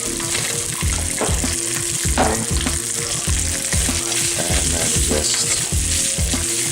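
Rice fries in hot oil in a pan while being broken up and stirred for omurice, giving a loud, continuous sizzle with repeated scraping and clattering stir strokes; a voice speaks briefly at one point.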